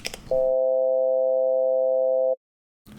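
Steady synthesizer tone built on a stacked harmonic series of 130, 260, 390 and 520 Hz, sounding for about two seconds alone with a sharp start and clean cutoff, briefly preceded by a short burst of synth sound.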